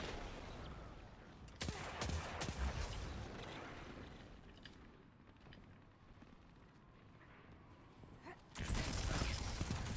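A gold gun firing in a video game, with clustered sharp shots early on, a quieter stretch in the middle, and a loud burst of fire at the end, mixed with game noise.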